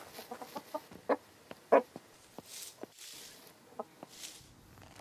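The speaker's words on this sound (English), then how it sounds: "Yeah, that's a very loud chicken sound." A chicken in the survival video game Scum clucks in scattered short notes, sharp and fairly close, with soft background ambience and occasional footsteps between them.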